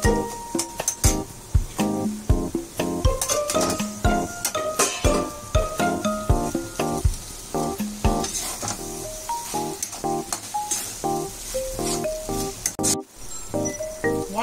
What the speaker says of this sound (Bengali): আমি এবার পাস্তাটা দিয়ে দেব।